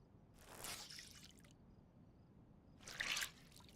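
Wet clothes being wrung out in DayZ: two soft splashy bursts of squeezed, dripping water, quiet and close, with a short pause between them.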